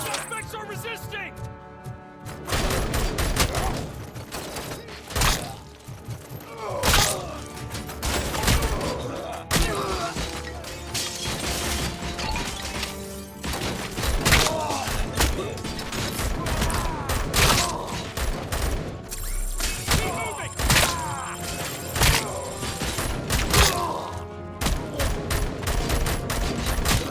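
Sustained gunfire in RoboCop: Rogue City, dense bursts and heavy impacts filling the whole stretch, with occasional shouted voices over the shooting.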